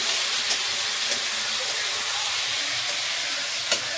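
Crab pieces fry in hot oil in a pan, giving a steady, close, continuous sizzle with faint stirring scrapes and a couple of brief clicks, with no talking.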